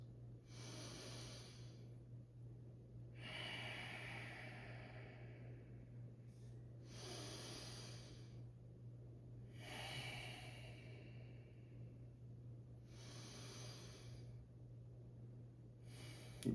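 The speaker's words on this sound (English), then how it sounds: "Breathe in, 4 seconds, and exhale" Slow, deliberate breaths taken in and out during a guided breathing exercise, each inhale lasting about four seconds and each exhale about six, close and airy, alternating in a calm, even rhythm with low hum beneath.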